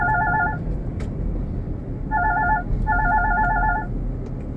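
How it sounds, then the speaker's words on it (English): A phone rings with an incoming call, giving a warbling electronic tone in three bursts, one short and two longer, over a steady low background hum, with no speech. "my video got interrupted by a phone call as usual."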